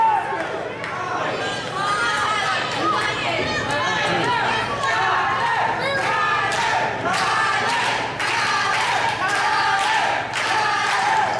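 An independent wrestling crowd at Hysteria 69 roars behind a wrestler, with continuous cheering and chanting, thuds from the ring and a commentator talking over the din throughout.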